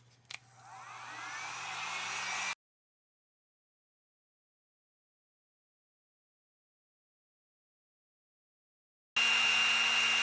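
A hair dryer blows on painted craft tiles with a steady whooshing whir that cuts off abruptly, falls silent for several seconds, then returns at full strength.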